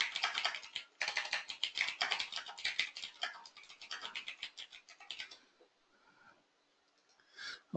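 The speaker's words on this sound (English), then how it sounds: "Just give me 1 second to type an answer here." Quick, irregular clatter of typing on a computer keyboard, dense keystrokes for about five seconds, then a quiet pause and a final short burst of keys, close and fairly soft.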